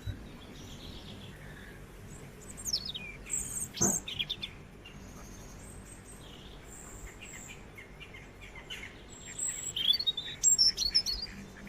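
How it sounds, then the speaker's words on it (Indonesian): A robin sings in scattered bursts of high, thin warbling phrases and chirps, with quiet pauses between them over a soft background hiss. "Ini contoh pada burung robin."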